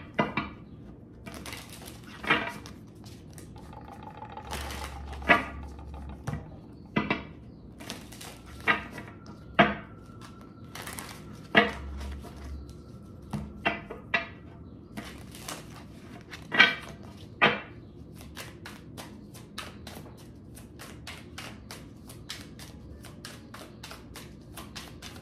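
Tarot cards being shuffled and handled up close: scattered soft taps, slaps and flicks for much of the stretch, giving way to a quick run of rapid ticking, with no talk over it.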